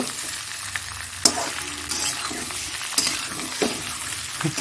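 Ginger frying with potatoes and mutton spices in a pan, a soft continuous sizzle broken by a few sharp stirring scrapes and clanks, no voices.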